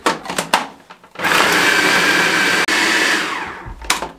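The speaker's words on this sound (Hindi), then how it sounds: "चॉप करने के बाद चॉपर को बंद कर देंगे" An electric chopper whirs steadily as it finely chops chicken with cumin powder and crushed chilli, a loud sustained motor drone that cuts briefly before stopping. Short bursts of clatter come before it and after it.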